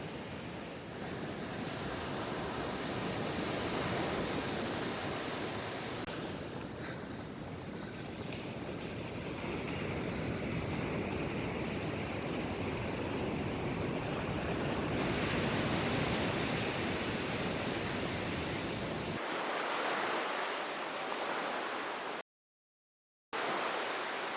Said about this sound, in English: Look at this huge waterfall cascading down the coast